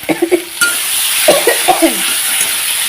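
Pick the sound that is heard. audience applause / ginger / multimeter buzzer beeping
ginger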